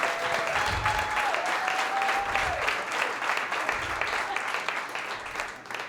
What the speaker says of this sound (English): I need you to give another round of applause, Zoe Rogers, for putting this together.